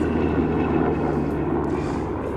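Marine One, the presidential helicopter, flying over Washington D.C.: a steady, loud, broad engine and rotor roar that holds constant throughout, with no talking.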